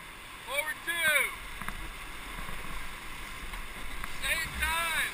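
Rafters paddling a raft on the Upper Gauley River: a steady wash of moving whitewater with occasional splashing paddle strokes, while people talk and shout over it.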